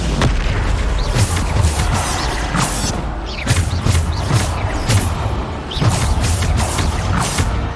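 Repeated Bombarda spell explosions in Hogwarts Legacy, a dense run of booming blasts about every half second over continuous loud battle noise, with no voices.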